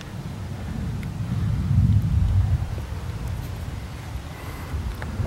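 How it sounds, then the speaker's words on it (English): Low, rolling thunder rumbles in the distance, swelling and then fading beneath steady wind and outdoor noise, heard beside a Can-Am Outlander 1000 ATV. "I can hear it thunder, guys. I think it's about to rain here."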